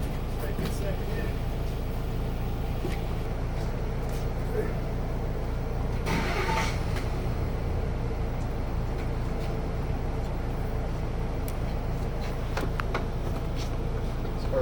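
A car engine idles steadily in neutral during an emissions test, a constant low rumble running the whole time, with people talking nearby.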